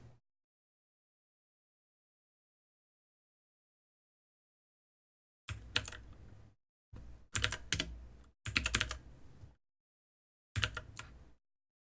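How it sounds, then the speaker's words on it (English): Bursts of typing on a computer keyboard come in several short, close clusters of clicking keys separated by silent gaps, quiet and with no voices. "My keyboard is misbehaving today."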